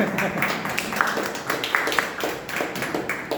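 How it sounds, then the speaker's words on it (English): A small group claps steadily for a few seconds at a Toastmasters club meeting, the patter fairly close and even, with no one speaking over it. "Let's have a round of applause for Hemant for filling in the SAA role."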